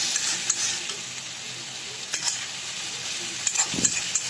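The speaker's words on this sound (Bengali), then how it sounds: "ভালো করে মিক্সড করে নিচ্ছি আমি।" Mixed vegetables frying with spices in a pan, a steady bright sizzle under repeated scraping strokes of a spoon, with a few sharper clanks, no talking.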